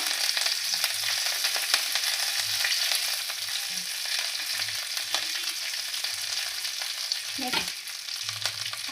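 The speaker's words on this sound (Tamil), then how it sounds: "கடுகு கொஞ்சம், உளுந்து பருப்பு கொஞ்சம் போட்டுக்கோங்க. இப்போ கருவேப்பிலை கொஞ்சம்," Mustard seeds, urad dal and curry leaves fry in hot oil with a continuous bright sizzle and scattered pops and crackles, close by, with a clatter of a spoon near the end; no speech.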